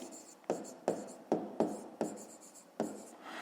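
A pen or pencil writes a math solution on paper in short, distinct strokes, about seven scratchy bursts close by, with brief pauses between them.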